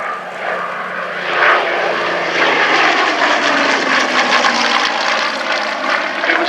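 A Hawker Hurricane IIC, built at Langley in 1944, passes at an airshow with a steady, sustained engine roar that swells slightly after the first seconds and stays loud throughout, with no voices.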